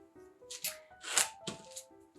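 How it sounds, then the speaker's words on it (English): Small 6-inch quilting scissors snip through fabric for a cat-themed collage quilt, several crisp close cuts and rustles in an uneven rhythm, with a faint musical tone in the background. "I'm just gonna start cutting"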